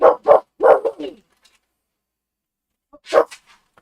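A puppy gives a quick run of sharp, close barks, goes quiet for a moment, then lets out one more bark with a short yip.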